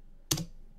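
A single crisp keystroke on a computer keyboard, close and clean against a quiet room, with no voice.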